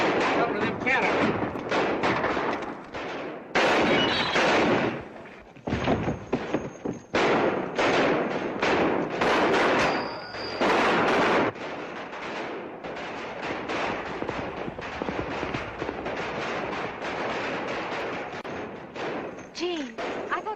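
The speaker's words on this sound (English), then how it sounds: "I thought they were shooting at you" Gunfire crackles through a 1937 Western film shootout, with repeated sharp shots and thuds coming in bursts over continuous background noise and some talk.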